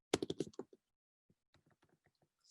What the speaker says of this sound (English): I'm just going to type the remaining names.